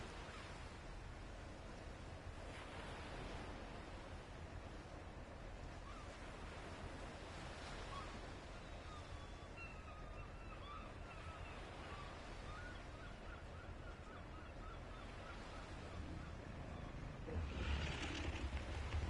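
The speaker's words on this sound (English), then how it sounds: "I could stare at these waves all day." Ocean waves from the video game Ark wash and roll continuously in a soft, broad hiss, with wind-like noise and a surge building louder near the end, and no one speaking.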